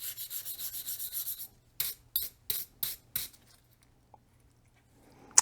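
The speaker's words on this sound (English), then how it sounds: "So let's go ahead and start scuffing it." A steel bristle brush scuffs a bicycle frame: a run of quick, raspy back-and-forth strokes, then several separate scrubbing passes with short pauses between them, close and fairly faint, with no voices.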